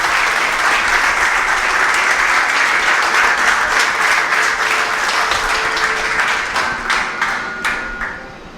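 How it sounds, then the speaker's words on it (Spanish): A church congregation gives loud, sustained applause during a service, dense clapping that fills the room before thinning and fading toward the end. "vamos a darle un fuerte aplauso al Padre, un fuerte aplauso al Hijo y un fuerte aplauso al Espíritu Santo"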